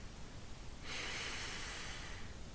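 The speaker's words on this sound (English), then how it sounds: "take a deep breath into your belly" Single deep breath drawn in through the nose during a 4-7-8 breathing exercise, a close, airy sniffing inhale lasting about a second and a half that fades out, with no talking.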